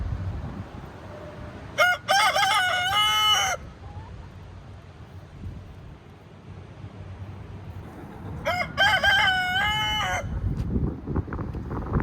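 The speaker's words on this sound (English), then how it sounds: "this is my golden lace Wyandotte rooster, or Guapo" A golden laced Wyandotte rooster crows twice, loud and close, each crow a long rising and falling call, with quiet farmyard background in between.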